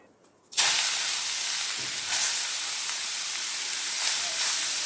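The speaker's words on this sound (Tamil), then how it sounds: "இப்போ இந்த நெய்யிலேயே நம்ம கேரட் துருவி வச்சிருக்கதை சேர்த்துப்போம்." Grated carrot hits hot ghee for carrot halwa, and a sudden loud hiss bursts in after a quiet moment, then holds as a steady, bright sizzle with slight surges.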